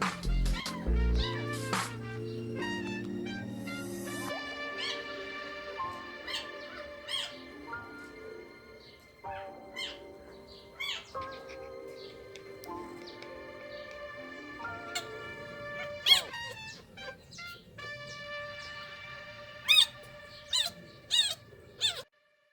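Newborn puppies in their first week squeaking, a series of short high-pitched squeals and chirps, some close and sharp, scattered irregularly across the stretch.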